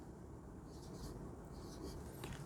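Chalk or a marker scratches on a board as the mass number is written, in a few faint short strokes over a low room hiss. No voices are heard.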